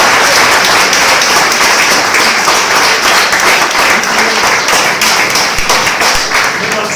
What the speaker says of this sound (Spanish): ¿Cuánto le dan un aplauso a Cristo?